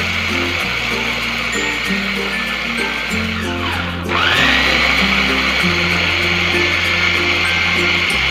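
A kitchen blender grinds garlic, kencur and curly red chilies for Indonesian pecel peanut sauce, whirring loud and close with a motor pitch that shifts and briefly drops before surging again.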